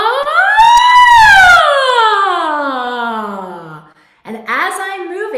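A singer's voice imitates a siren in a vocal exercise, a loud sustained tone sliding up then gliding slowly down over several seconds, breaking off briefly before a second rising glide begins.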